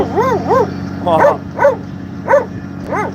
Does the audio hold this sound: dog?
yes